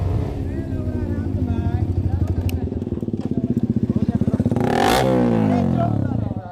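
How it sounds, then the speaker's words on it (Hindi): A KTM Duke 200 and a Yamaha R15 V4, both fitted with aftermarket exhausts, run close by. There is a loud, throbbing idle with rapid pulsing, then a sharp rev that rises and falls, with a voice under the roar. "जब दोनों बाइक चल रहा है तो आतंक मच जा रहा।"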